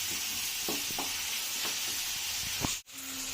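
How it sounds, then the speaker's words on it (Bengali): Diced onions, yellow and red bell peppers, green capsicum and chopped green chillies sautéing in a pan over a medium-high gas flame, a close, even sizzle with a few spatula scrapes and a sudden brief drop near the end. "জাস্ট মিডিয়াম হাই টু মিডিয়ামে গ্যাসের ফ্লেমটাকে রেখে জাস্ট একটু নেড়ে নেবো এটা"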